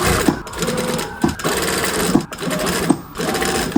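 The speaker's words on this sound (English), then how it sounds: "we're just going to sew starting from the end, lining that up at 3/8 of an inch" A sewing machine stitches a corset top's bust cup seam at a 3/8-inch allowance, running in steady buzzing bursts with brief pauses between them, loud and close with no talking over it.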